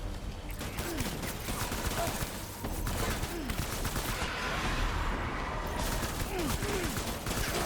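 Sustained assault rifle fire in the video game Death Stranding, with dense overlapping gunfire and explosive crackle running through the whole stretch and no talk over it.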